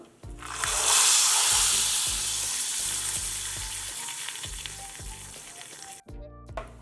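A tempering of asafoetida sizzles sharply in hot oil for a doddapatre tambuli. The bright hiss flares at the start and then settles, with regular low thumps in a steady rhythm beneath it, before the sound cuts off abruptly near the end.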